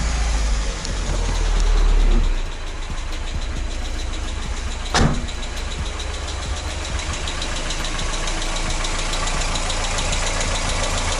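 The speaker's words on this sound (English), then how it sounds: "I can still hear the lifter tick" Mazda MX5 NA Miata engine idling in a garage with a lifter tick, starting up then settling into a steady close idle with a fast, even ticking throughout and no speech.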